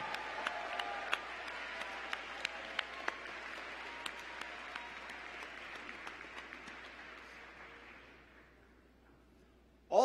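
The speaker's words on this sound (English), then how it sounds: "Class, please join me in a round of applause for these very, very special people in your lives." Sustained applause from a large commencement ceremony audience, a dense wash of clapping with a few sharper individual claps, fading out gradually toward the end before a brief loud burst.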